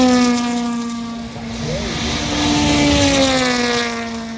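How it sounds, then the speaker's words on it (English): Helicopters start up near a Rally Finland stage, loud steady rotor and turbine drone with a rising whine, close and continuous throughout. "all the helicopters are starting up"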